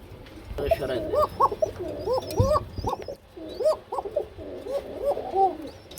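A pair of koka pigeons coo in repeated soft, rolling phrases at close range, with brief pauses between bursts and no talking.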